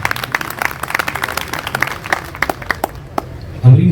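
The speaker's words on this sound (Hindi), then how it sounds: "ये हौसला अफजाई वाली तालियां नहीं है" Listeners at an international mushaira poetry gathering give sparse, scattered claps that thin out, before a low voice comes in at the very end.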